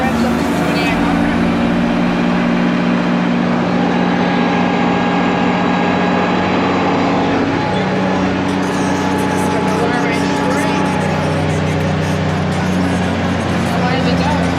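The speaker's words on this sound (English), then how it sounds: "Pump revs up to 2800." An old-school pump engine on slashing equipment revs up to 2800 and holds there: a loud, steady, low mechanical drone with a constant hum running throughout, close by.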